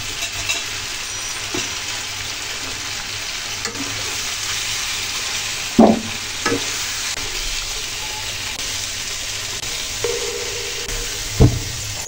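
Vegetables, including pumpkin, sizzle steadily in hot oil in a pan for a rui fish curry, a continuous close frying hiss with a few soft spoon stirs and knocks, no talking.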